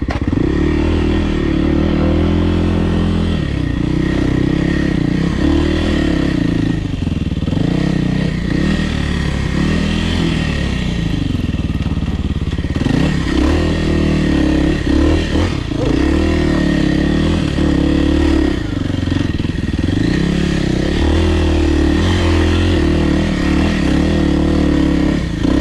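A Kawasaki KLX300R dirt bike climbs a rocky, rooty hill, its engine droning loudly and steadily with revving surges, and rocks and roots clatter and scrape beneath it the whole time.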